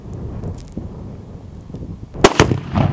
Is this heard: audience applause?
no